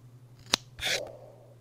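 Scissors cutting dreadlocks: a single sharp snip followed by a longer crunching cut through thick matted hair, close and fairly quiet over a steady low hum, with no talk.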